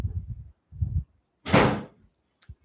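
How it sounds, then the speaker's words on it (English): A door is blown shut by the breeze indoors, a single loud slam with a short tail and a faint knock after it, following a few low murmurs. "the breeze closes that door"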